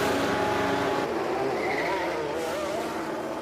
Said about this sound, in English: here goes Verstappen into the pit